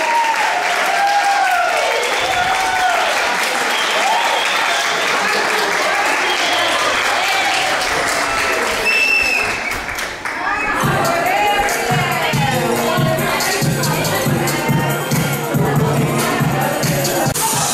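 Loud, continuous applause from an audience at a student performance during a special-needs awareness week event, with crowd noise, cheering and voices mixed in throughout, growing denser in the latter half.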